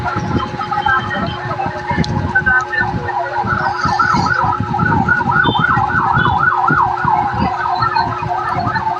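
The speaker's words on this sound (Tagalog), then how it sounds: "Ayan, may dumadating na naman po ng mga fire truck." Fire trucks arriving at a market fire at night in Commonwealth, Quezon City, their sirens wailing in repeated rising and falling sweeps over steady engine rumble and street noise, fairly near and continuous, with scattered background voices.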